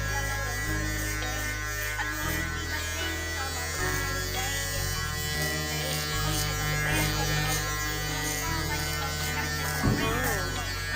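Electric hair clippers with a 1 guard buzz steadily up close while cutting hair around the ear, their hum shifting slightly in pitch as they move, under faint background talk.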